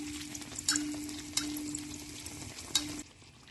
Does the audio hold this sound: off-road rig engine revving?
no